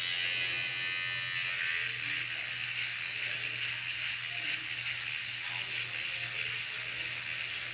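A Flawless electric facial hair remover buzzes steadily and fairly loud for several seconds, a constant high whine with slight wavering pitch and no voices over it.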